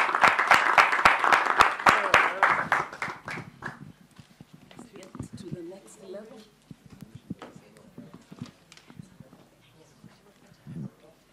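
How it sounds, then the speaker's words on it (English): Conference audience at a city diplomacy event bursts into loud, dense applause that tapers after a few seconds into scattered claps, with voices talking over the fading tail. "Applause for all."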